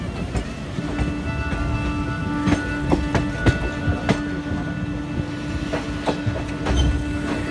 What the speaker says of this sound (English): That's a local that has just come out of Karjat station as we leave.